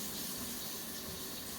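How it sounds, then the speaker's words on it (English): Water runs steadily from a kitchen tap while hands are washed after mixing meatloaf, a continuous soft hiss and splash at moderate, even level with no voices. "Now let me wash my hands."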